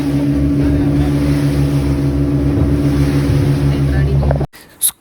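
A motorboat heads out to sea for a scuba dive, its engine a loud, steady droning rumble with wind buffeting the microphone, cutting off abruptly near the end.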